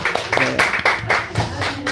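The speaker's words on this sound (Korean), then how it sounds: "박수" A church congregation claps in a few loud, close bursts of rhythmic hand claps, with some vocal sound mixed in.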